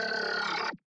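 A thick, snarling growl bass made with Nasco's growl preset roars steadily in a dubstep-style drop breakdown, then cuts off abruptly near the end.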